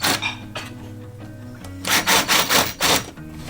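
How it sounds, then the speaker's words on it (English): A hand tool countersinks a hole in wood during a rustic stone-ruin home renovation in Portugal. After a quieter start, about five loud, rhythmic rasping strokes come up close, with no talk. "he's using that to countersink"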